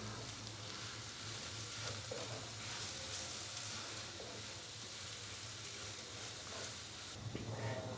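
Boiled potatoes are stirred and mixed in a hot pan for a samosa sandwich filling. A faint, steady sizzle runs throughout, with soft scraping of the stirring.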